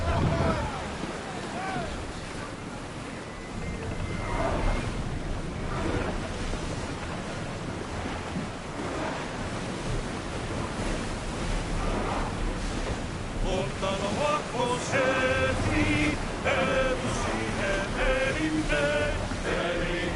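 Ocean waves and wind rush steadily around a sailing ship in Assassin's Creed Odyssey, a loud, continuous wash with voices and tonal game sounds layered over it in the second half.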